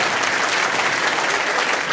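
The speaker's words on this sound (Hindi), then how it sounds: "और एक बार तालियां" Loud, continuous clapping from a crowd at an event honoring international boxer Neeraj Goyat as chief guest, dense and even throughout the short burst.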